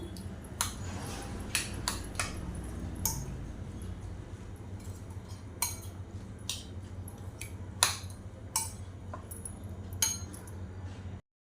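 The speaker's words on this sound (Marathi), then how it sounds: "आता हे सगळं छान मिक्स करून घेऊया आपण" Cheese sandwich filling being mixed in a bowl with chili flakes and oregano, giving repeated light clinks and scrapes of a spoon against the dish over a low steady background hum, with no talking.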